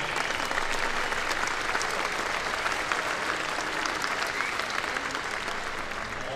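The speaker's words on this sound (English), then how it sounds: "Let's have a nice round of applause for Dwayne." Sustained, loud applause from an indoor crowd fills the whole stretch evenly after an archery championship shoot-off at the Vegas Shoot.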